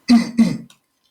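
Two quick, harsh throat clearings in a row, close and loud, followed by a short breathy catch, then silence.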